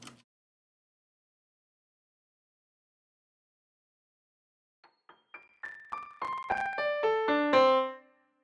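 One channel of a melodic track widened with short Haas-effect delays: a quick ascending run of bright, plucked synth-like notes that speed up and pile into a brief sustained cluster, then stop, fairly faint and alone after near-silence.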